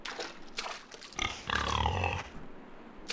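Pig grunting in the Evil Dead: Hail to the King video game, several close, rough grunts and squeals in a burst near the middle, with fainter game ambience around them.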